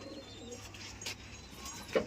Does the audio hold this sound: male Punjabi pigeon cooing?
yes